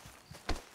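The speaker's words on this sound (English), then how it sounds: "Come here, horsey." Horse hooves in Red Dead Redemption 2, a few soft clip-clop steps ending in one louder hoof thud, brief and close, with no neigh evident.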